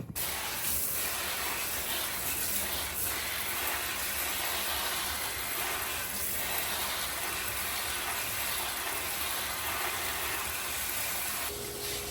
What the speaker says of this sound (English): And then spray some neem oil.